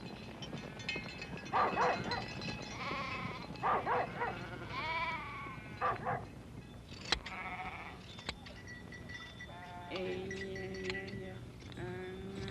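Navajo herd sheep bleating in repeated wavering calls, several animals near and far, with a dog barking and a couple of sharp knocks in between.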